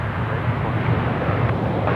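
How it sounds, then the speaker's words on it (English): A Qantas Airbus A330-300 airliner, arriving from Hong Kong, comes in at Sydney Airport with a steady broad jet roar heard from a distance. The noise stays fairly even throughout, with no talking. "Here we go, the 330-300 now coming in from Hong Kong, Cathay, Qantas rather"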